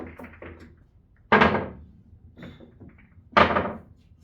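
Two sharp, loud cracks of pool balls colliding on a billiard table ring out about two seconds apart, each decaying quickly, with softer clicks and taps of the balls in between and no talking.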